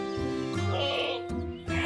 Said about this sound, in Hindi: ये बकरा कितना शरीर है,